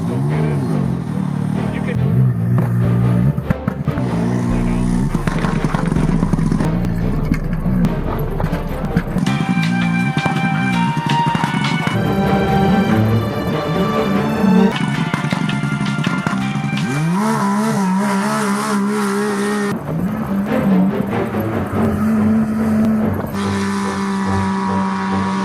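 Golf carts drag racing side by side, their motors whining and rising in pitch under continuous loud wind and vehicle noise, with occasional voices over the run.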